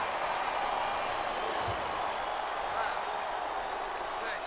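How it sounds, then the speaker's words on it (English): An arena crowd in a PS2 wrestling game, WWE SmackDown vs Raw, roars as a steady broad wash of cheering, held at a constant level with no distinct claps. "Sounds like this crowd's got something on their minds, King."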